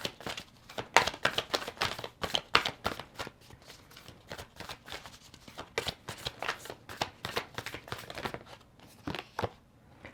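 Moonology oracle cards are shuffled by hand in quick, repeated riffling bursts, crisp and close, carrying on steadily for about ten seconds with brief pauses between bursts.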